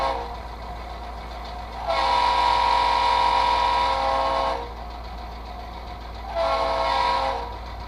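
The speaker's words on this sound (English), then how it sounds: "There's the quilled whistle." A quilled steam whistle from an HO scale model locomotive sound decoder, played through a small speaker, gives two sustained blasts, a long one followed by a shorter one after a pause, over a steady electronic hum.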